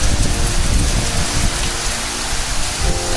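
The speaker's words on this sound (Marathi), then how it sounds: "सकाळी भरपूर पाऊस लागतोय" Heavy morning rain in a Ratnagiri village pours down in a loud, dense, continuous roar of drops drumming on surfaces close by, with no voices.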